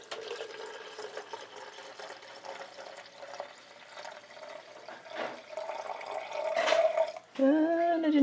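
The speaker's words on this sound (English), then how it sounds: "I know I'm pouring from my tea kettle," Cold water pours steadily from a tea kettle into a pot, a continuous close splashing stream that swells as the pot fills, then a rising gurgle near the end.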